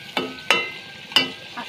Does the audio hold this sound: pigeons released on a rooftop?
no